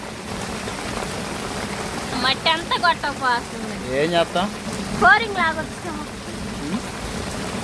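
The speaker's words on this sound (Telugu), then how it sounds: "ఈరోజు అంతే విధంగా వర్షం కూడా దమ్మదమ్మ కొడుతుందండి" Heavy rain pours down steadily around a thatched village hut in a constant broad hiss, while people talk over it in short bursts.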